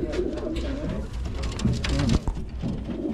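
Racing pigeons coo in a loft during a 420 km race basketting, a steady low murmur of many birds over a dense, busy background.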